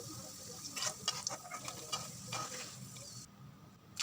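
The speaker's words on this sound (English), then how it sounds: "So now I'm going to fry potatoes." Potatoes frying in a pan for a jackfruit potato curry, a quiet steady sizzle with several close spatula scrapes and clicks as they are turned, fading near the end.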